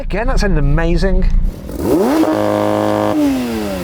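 Sports car engine, a Porsche 911 GT3 RS or Maserati MC20 during a race, revving hard and rising in pitch before holding a steady loud drone, with a sharp crackle of throttle near the start.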